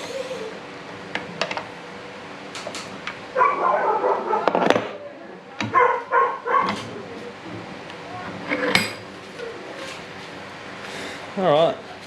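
A dog barks and yips in several short bursts at close range. Irregular pauses fall between the bursts while people talk nearby in a garage where a Nissan R32 Skyline is being worked on.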